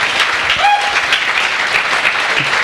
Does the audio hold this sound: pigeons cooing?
no